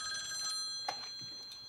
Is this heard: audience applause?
no